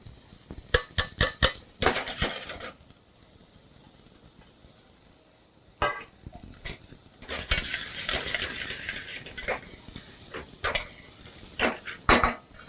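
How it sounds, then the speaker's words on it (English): Celery, carrots and onions hit warm olive oil in a soup pot, setting off a sizzle with bursts of utensil clatter and stirring, loud at the start and again toward the end. "once our olive oil gets warm, I'm going to add in my celery, my carrots, and my onions"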